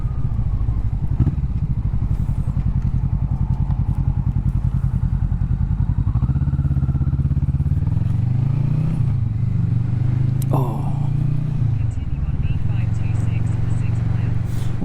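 Motorcycles pass on the road, heard from a rider's seat on a Kawasaki Vulcan S, a steady loud engine drone with wind and a rising pass midway, alone without talk.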